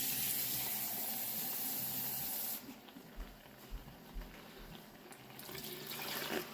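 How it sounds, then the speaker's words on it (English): A cup of water pours from a tap in a loud hissing rush for a couple of seconds while cooking a beef, broccoli and cabbage dish, then cuts off, leaving quieter bubbling and stirring sounds. "I'm going to add another cup of water."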